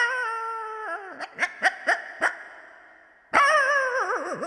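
A voice imitates dogs barking in a comedy skit: a drawn-out whine, then a burst of four sharp yelping barks, a pause, and another long wavering howl, close and clear.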